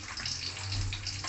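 Dry red chilies dropped into hot oil in a karahi give a brief, loud, steady hiss that lasts just over a second.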